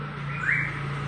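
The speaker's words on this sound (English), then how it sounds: "That's a bird, huh?" A single bird chirps briefly in a neighborhood near a fish market in Da Nang, Vietnam, a thin rising call over steady background hum and traffic.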